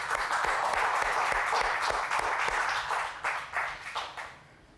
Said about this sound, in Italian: posso farvi un applauso?